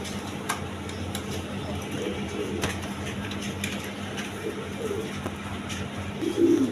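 A running pair of feather-footed pigeons coo faintly, low soft coos rising now and then out of a steady background hum, the clearest one near the end.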